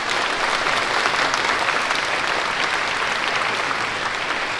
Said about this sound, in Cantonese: 我哋再一次用熱烈嘅掌聲感謝各位